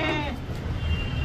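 A Hyderabadi goat gives a single loud, wavering bleat near the start, then the bleat fades into steady background noise, all heard close up without anyone talking.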